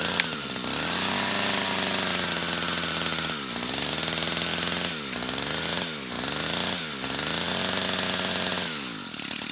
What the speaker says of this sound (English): And now, Grassy's weed whacker runs perfectly.